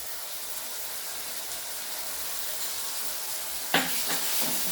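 Ginger garlic paste, ground from eight to ten garlic cloves and two inches of ginger, fries in a pan for masala chicken. It gives a steady, loud sizzling hiss throughout, with a brief scraping stir near the end.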